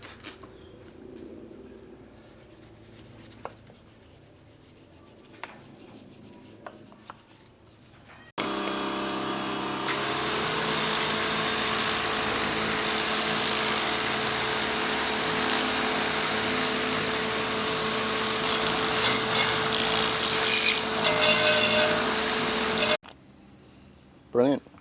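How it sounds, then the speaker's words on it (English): A car tyre and wheel scrubbed to lift brake dust, with a steady, loud brushing wash lasting about fifteen seconds between quieter stretches. "Gave the tyre a bit of a scrub while I was there as well."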